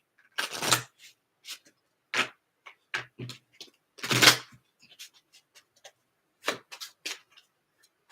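Zodiac fortune telling cards being shuffled and handled, heard as close, crisp bursts of card riffling and flicks separated by quiet gaps, with no talk.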